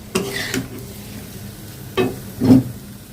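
Fish curry masala is sautéed in a pan with a splash of water, giving soft sizzling and a few distinct stirring scrapes, quiet between strokes, with no talking.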